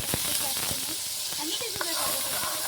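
Green masala for a Marathi-style vegetable dish fries in a pan with a steady, close, hissing sizzle and faint crackles that continue unbroken throughout.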